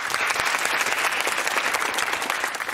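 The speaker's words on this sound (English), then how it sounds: "Nice to see you applauding each other." Studio audience applause at a University Challenge quiz show, a dense, even clatter of many hands clapping close and loud for a few seconds.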